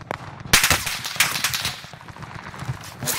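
Rapid bursts of automatic gunfire from the Warzone video game, with an Owen gun setup in Season 4, crackling loud and close in quick clusters with short gaps between volleys.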